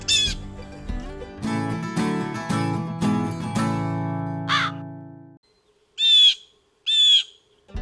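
Harsh raspy calls from a baby blue jay fledgling at a picnic table: a long run of buzzy squawks with a steady droning tone beneath, then two short separate squawks after a brief pause, close and fairly loud.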